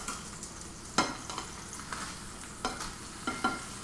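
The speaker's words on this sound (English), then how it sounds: "So if you hear a sizzling sound, relax. Ain't nothing on fire, just cooking some hamburgers." Hamburgers sizzle quietly in a pan, a soft steady crackle with a few sharper scraping clinks of stirring.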